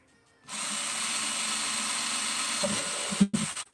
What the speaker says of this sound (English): might be using the wrong drill bit